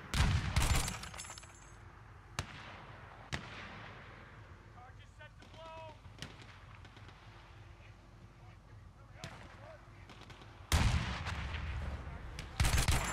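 Gunfire in the Battlefield 1 video game, Rush mode: sharp loud shots and bursts at the start and end, scattered single cracks and rumbling explosions in between, with someone speaking over the battle.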